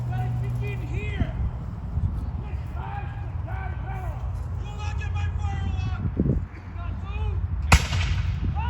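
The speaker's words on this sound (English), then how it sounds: "They've been fired upon, and therefore they begin to return fire." Muskets crack at a Battle of Lexington reenactment amid continuous shouting voices and outdoor crowd noise, with a sharp loud report near the end standing out above the din.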